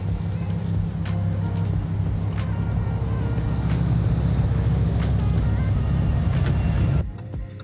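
A Lamborghini Huracan STO drives through Paris with a constant loud, low engine drone and road rumble that cuts off abruptly near the end.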